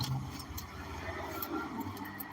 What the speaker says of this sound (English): There goes the UPS truck.